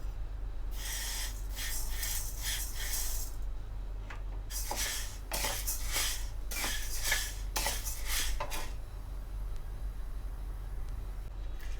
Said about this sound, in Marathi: आता आपण गहू भाजून घेऊया।